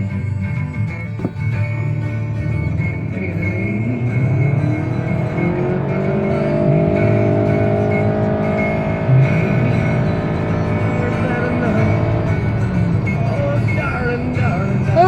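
A 2016 Honda CR-V with a CVT accelerating at full throttle, a steady droning engine note that rises smoothly without gear shifts, heard from inside the cabin at moderate loudness.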